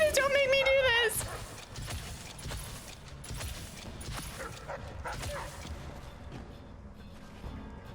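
A guard dog in Dishonored barks and yelps while attacking, a sharp whining cry at the start followed by scattered barks and scuffling amid game combat noise, with a person talking over it.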